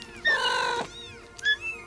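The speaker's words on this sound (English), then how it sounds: "there's some kittens in the bathtub" Kittens in a bathtub meowing, one clear high meow followed by a shorter second meow after a pause, close and fairly quiet in a small room.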